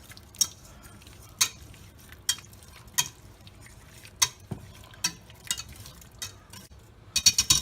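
A utensil stirs stubborn ingredients stuck to the bottom of a cup, producing a series of sharp, close clinks and taps at irregular intervals, ending in a quick cluster of rattling knocks.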